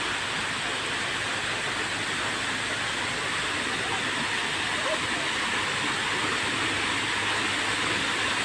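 A small waterfall feeding a stream in a temple garden in Thailand, a steady, even rush of falling water that fills the background without a break, with someone speaking quietly over it.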